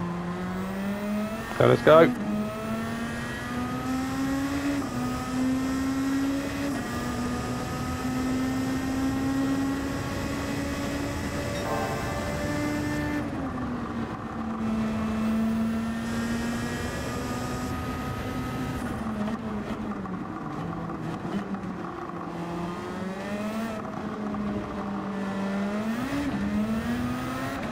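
A race car in Gran Turismo 7 accelerates on nitrous with a loud, sustained engine drone whose pitch climbs, dips with gear changes and climbs again. A voice speaks briefly near the start.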